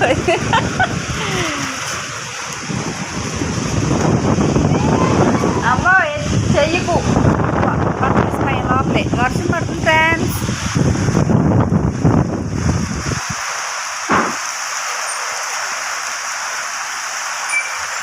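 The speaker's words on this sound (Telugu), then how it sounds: "పెద్ద వాన పడుతుంది ఇక్కడ" Heavy rain hisses steadily across the whole stretch with gusty wind noise, while people talk over it through most of the middle before it continues alone.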